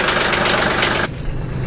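Tractor engine running close and loud, a steady rumbling idle that drops in tone partway through as the load or throttle changes.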